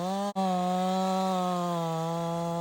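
A chainsaw bores straight into the trunk of a very large tree with a constant, loud engine whine. It holds a steady pitch throughout, with only a momentary dip near the start.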